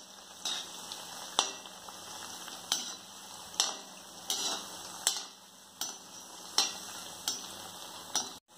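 A rice flour and egg snack fries quietly in a pan with a soft, low sizzle, broken by regular metallic scrapes and clicks of a spoon about every 0.7 seconds as the pieces are turned.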